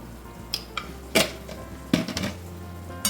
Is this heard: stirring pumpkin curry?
yes